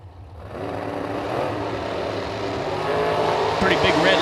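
Drag race cars launching down the track at a drag strip, a loud building engine roar that swells toward the end, with an announcer talking over it.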